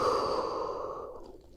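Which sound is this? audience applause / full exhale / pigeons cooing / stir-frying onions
full exhale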